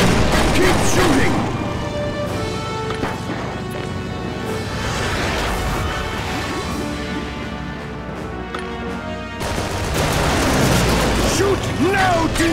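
Gunfire and explosions from The Adventures of Tintin video game, a dense, loud, continuous barrage of booms and crashes with game music underneath and swelling bursts near the start and end.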